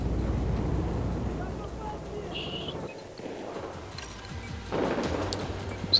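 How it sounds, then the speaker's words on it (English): Bursts of explosions and sharp gunshots go off in a busy Battlefield 4 game scene, booming at moments amid a constant rumbling backdrop. "It's just explosions everywhere."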